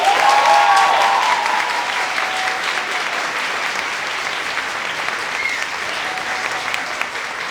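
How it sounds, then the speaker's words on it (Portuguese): A large audience at a diplomacy round-table applauds loudly and steadily, a dense wash of many hands clapping that starts strong and holds through the clip with slight fading, alongside murmurs. "Eu acho que isso merece uma salva de palmas."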